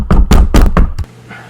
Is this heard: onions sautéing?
no